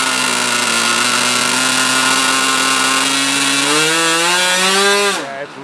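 A small model aircraft engine, running slightly rich, screams steadily at close range, its pitch rising and wavering near the end before it suddenly drops away.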